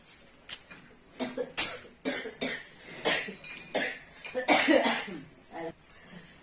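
A person in a rural Indian village home suffering from a cold coughs repeatedly, a series of harsh, close coughs in an uneven rhythm with faint clinks of dishes in the background.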